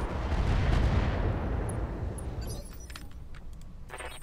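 A heavy mech weapon in the Roguetech game fires one loud, booming blast that opens with a thick rumble and fades over a few seconds into a thinner metallic rattle and clinks.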